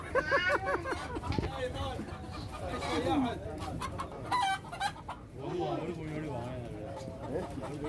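Native chickens clucking and a rooster calling amid a busy livestock market in Jeddah, with people talking over the birds throughout.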